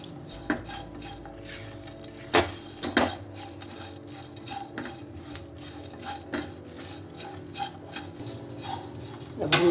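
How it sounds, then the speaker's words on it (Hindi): Whole spices such as black cardamom and cloves stirred with a metal spoon in a hot kadhai for lemon pickle: scattered metallic scrapes and clinks at irregular intervals, with quiet talking throughout. "अपना गैस बंद कर देंगे और इसे थोड़ी देर हिलाते रहेंगे क्योंकि अभी हमारा कढ़ाई गर्म है"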